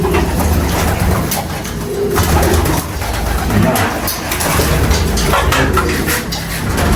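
Pigeons kept in a loft coo steadily, with low repeated coos carrying over a dense background of bird noise and a voice talking now and then.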